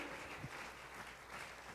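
A church congregation applauds during a Sunday sermon, producing a steady wash of many hands clapping at once, with no voices rising above it.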